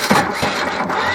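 A diesel engine on a 4x4 man-lift cranks and catches, a rough, busy mechanical clatter building toward a high idle, loud and close throughout the short burst.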